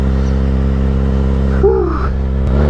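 A Kawasaki 636 sport motorcycle engine revs with too much throttle, a loud, close, steady engine drone that briefly surges and wavers in pitch before settling again.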